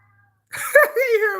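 A cat meows at a door, one close, drawn-out wavering call with a rising then falling pitch, following brief quiet.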